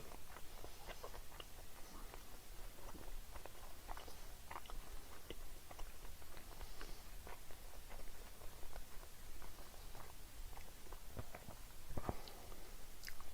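Leftover squid sushi being chewed up close, a steady run of soft, wet mastication clicks and squelches with a few sharper bites, no talking over it.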